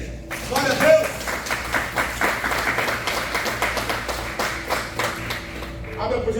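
A church congregation at a family worship service claps together in a quick, rhythmic burst of applause, moderately loud, with voices and a speaker talking over it.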